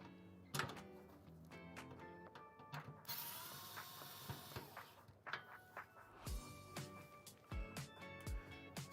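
Screws being driven into a Corsair 7000D PC case, close metallic ratcheting clicks and whirs in short irregular bursts with rattles and knocks of the metal panels between them.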